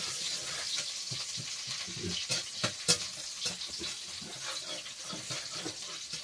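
Garlic and chili frying in hot oil in a home kitchen, a steady dense sizzle with crackling pops and a few louder spits, close and continuous.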